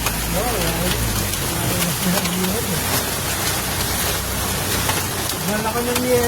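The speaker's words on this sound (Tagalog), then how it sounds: "Malaki ng yelo, ano?" Heavy rain and hail pound down in Bocaue, Bulacan, a dense, steady roar of drops and ice. People talk over the storm throughout.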